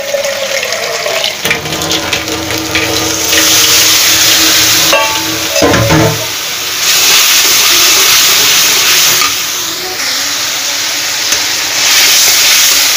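Whole spices such as bay leaf, cardamom and cinnamon sizzle loudly in hot oil in a pan, a steady frying hiss that dips briefly midway, then carries on close and strong with no voices.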